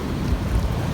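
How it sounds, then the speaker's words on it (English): Calm ocean waves wash in on a beach, a steady low rumbling surge with gentle swells, mixed with wind buffeting the microphone. "See, waves coming in again."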